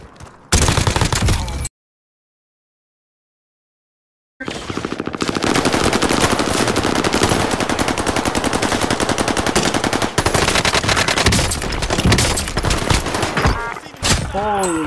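Dense, rapid automatic gunfire from the video game Warzone, loud and close, with a burst near the start, a short gap of silence, then long sustained volleys of shots running to the end.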